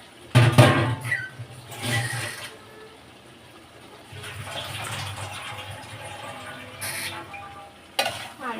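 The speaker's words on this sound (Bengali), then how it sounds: "তেল বেশি উঠেছে আর এখন আমি মাংসটা অ্যাড" Broiler chicken meat hitting hot oil and spices, then stirred, opens with loud clattering and sizzling, eases off, and returns as a steady close sizzle with scraping and a final sharp stir.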